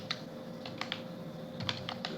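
Light, irregular keystrokes on a computer keyboard come in small clusters while C code is typed, fairly close and soft, over a quiet room hum, with no talking.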